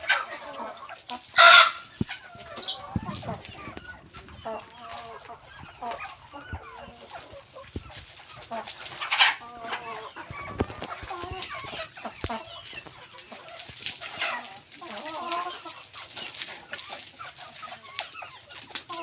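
Village chickens clucking intermittently with a rooster crowing loudly near the start and again midway, set against quiet rural background.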